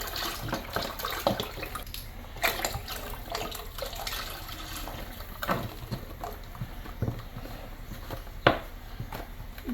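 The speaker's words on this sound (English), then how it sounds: "So, to this pot, we're going to add a quart of water." Water pours steadily into a soup pot on a home stove, a continuous splashing stream with a few louder sloshes, close and alone without talk.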